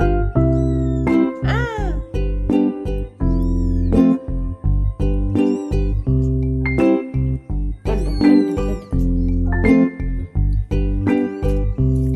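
Kittens cry and mew repeatedly in quick, high overlapping calls, close and loud, with a steady low hum beneath and no talking.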